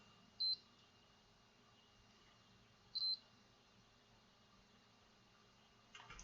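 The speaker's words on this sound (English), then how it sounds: "Yes, I'm using continuity test again" Two short electronic beeps from a multimeter in continuity mode, near 0.5 and 3 seconds, quiet and isolated over low hiss, while output transistors on a Timpano TPT3000EQ amplifier board are probed for shorts.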